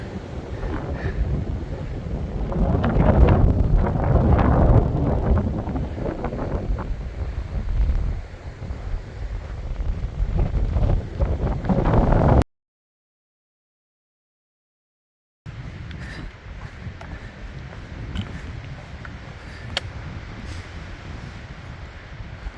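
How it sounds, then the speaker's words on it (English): Strong wind buffets the microphone in a steady roar with gusty swells in an upland pine forest, cutting out briefly before resuming. "It's pretty windy up here though."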